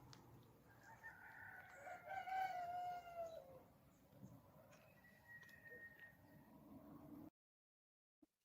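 Cockerels crow across a valley at sunrise, one long drawn-out crow rising and falling, then fainter answering crows from farther off, over a soft outdoor hush that cuts off abruptly.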